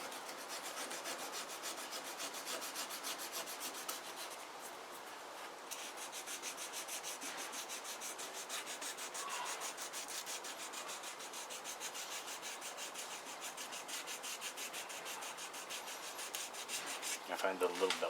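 A small belt sander works over curved wooden contours outdoors in a light breeze, a steady, close abrasive rasping that runs continuously with slight surges and no talk.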